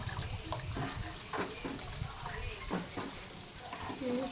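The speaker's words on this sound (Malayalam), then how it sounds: "കുറച്ച് വെള്ളം ഒഴിച്ചു കൊടുക്കാം കേട്ടോ" Water pours into a bubbling pot of lentil and tomato curry with a steady splashing rush, up close, over soft kitchen clatter.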